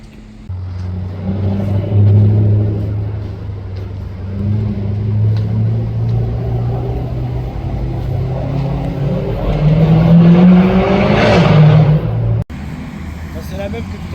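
An Audi RS6 drives past with a deep engine rumble that swells as it nears, rising to a loud roar before cutting off abruptly, with voices talking over it.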